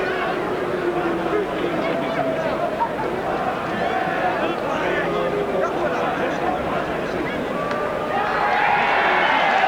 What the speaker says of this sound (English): Drowned out by the enormous crowd and photographers that surround them.